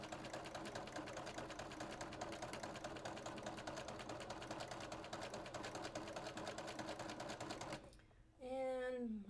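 A sewing machine stitching quilt units runs steadily at a fast, even rhythm for about eight seconds, close and alone, then stops as a voice begins.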